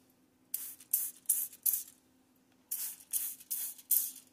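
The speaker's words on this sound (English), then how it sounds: "I'm using a regular sprayer." Spray bursts from a regular handheld sprayer wetting toilet paper with dye before sublimation printing, two clusters of four short, loud hissing pulses, close and alone with no talk.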